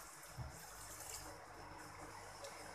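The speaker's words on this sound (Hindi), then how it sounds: "अब इसमें पानी शामिल करेंगे," Water is poured into a cooking pot of spiced beef for shami kabab, making a soft, steady gush that runs throughout at low level.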